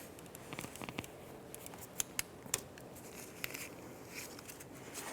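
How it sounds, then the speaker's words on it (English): A torque wrench tightens the harmonic balancer crank bolt on a 2005-2010 Chevrolet Cobalt to 74 foot-pounds, giving faint, sparse ratcheting clicks with a few sharper snaps in a quiet garage. "And now I can get my torque wrench."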